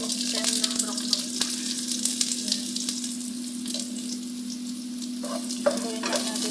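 Garlic, carrots and broccoli stems stir-frying in a pan for a broccoli and oyster sauce dish, a steady close sizzle with occasional scraping stirs and a constant low hum underneath, no talking.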